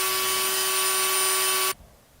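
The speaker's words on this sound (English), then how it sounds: "I used a Dremel and just ground off that corner" A Dremel rotary tool grinds the corner off a guitar wah pedal's circuit board, a loud, steady high whine that runs unbroken for under two seconds, then cuts off abruptly into quiet.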